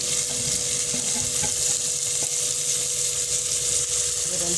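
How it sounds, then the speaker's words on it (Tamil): Chopped onions sauté in a pan for a one-pot rice dish, a steady loud sizzle and frying hiss with faint stirring scrapes throughout. "போட்டு நல்லா வதங்கட்டும் தக்காளி போட்டுக்கலாம்"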